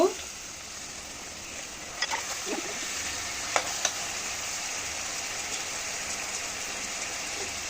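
Fried pieces of roast meat sizzle and fry in a pan with a continuous hiss, broken by a few light clatters of utensils nearby.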